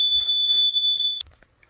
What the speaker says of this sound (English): I hate you, smoke detector.